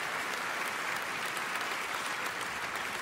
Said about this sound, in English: you can give applause.